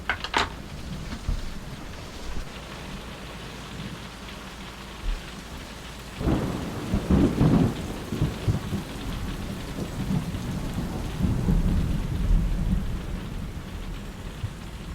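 Steady rain pours down during a thunderstorm in the Dolomites, with low rumbles of thunder rolling in and swelling partway through, loud and enveloping with no voices.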